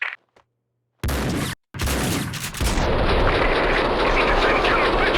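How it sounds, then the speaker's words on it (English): Gunfire in the video game Max Payne 2, a sustained loud barrage of shots filling the scene after a couple of short bursts, with the action continuing steadily throughout. "I can still hear gunshots."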